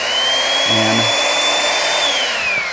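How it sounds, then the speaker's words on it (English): A pipe-clamping drill press bores into large sanitary pipe, giving a loud, steady mechanical whine with a motor pitch that holds and then drops slightly near the end. A single brief word is spoken over it. "So basically it is a drill press that clamps onto any size pipe,"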